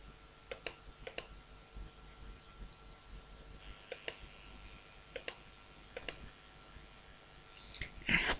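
A computer mouse gives sparse, quiet clicks, single and doubled, spaced irregularly over a low background hum while working in an animation program.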